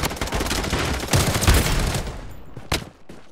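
Defensive turret in the video game Blood Strike firing a rapid continuous burst of automatic gunfire, loud and dense, tapering off with a final isolated shot.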